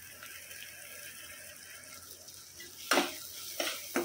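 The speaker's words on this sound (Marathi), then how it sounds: "चला आता आपण ग्रेव्ही टाकून घेऊया" Gravy poured into frying masala for restaurant-style shahi paneer, a soft steady sizzle that bursts into sharper splashing hiss near the end, fairly close with no talk.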